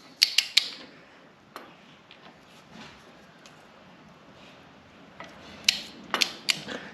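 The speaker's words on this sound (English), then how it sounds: "now we'll get the torque wrench and torque that up to 30 foot-pounds" A torque wrench works the brake rotor bolts of a Harley-Davidson Sport Glide fitted with a 15-inch Arlen Ness big rotor kit, giving a few sharp metallic clicks early on and another cluster near the end over quiet background.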